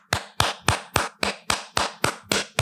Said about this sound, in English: but I'm going to clap for us.